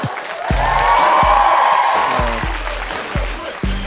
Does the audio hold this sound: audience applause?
yes